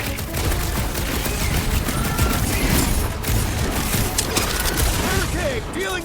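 Dense gunfire rattles nonstop in the Marvel's Guardians of the Galaxy video game, loud rapid shots and booms layered together, with voices talking over the shooting.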